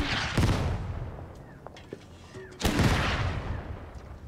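Mortar artillery fire in the video game Total Tank Generals, with two loud booming impacts about two seconds apart, sharp small cracks between them, and a faint rumbling background.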